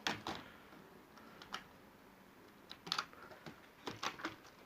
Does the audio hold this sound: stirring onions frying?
no